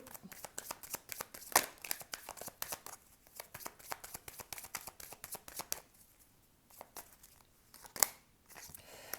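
Tarot cards being shuffled by hand during a card reading, with a long run of quick papery riffles and soft slaps in uneven bursts, close and fairly quiet, pausing briefly near the middle before resuming.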